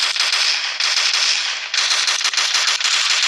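Rapid automatic rifle fire in a zombie shooter game, loud continuous bursts of dense rattling shots with brief gaps between strings.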